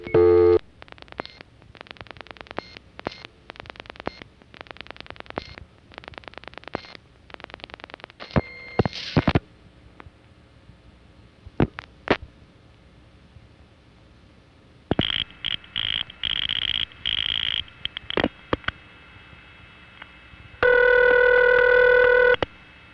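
Old New York City telephone routing tones, recorded from the Newdorp exchange on a Bushwick call sent to a crossbar five office by revertive pulsing, run as rapid bursts of clicks and tone pulses, then steady multi-frequency tones near the end, loud and close, with no speech.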